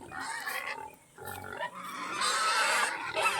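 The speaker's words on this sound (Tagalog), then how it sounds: "Ayan guys, napakaraming baboy." Many pigs on a farm beside rice fields, grunting and squealing in overlapping bursts, with a loud, shrill chorus of squeals building toward the end, close by and without talking.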